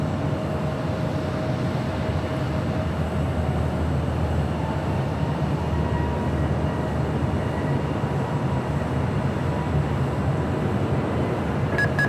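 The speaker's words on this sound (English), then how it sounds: "up next, Flair Airlines, the 737 MAX 8, followed by that 777" Broad, steady rumbling roar of a Flair Airlines Boeing 737 MAX 8 jet at LAX, a constant loud wash of engine noise with a faint tonal hum and no talking.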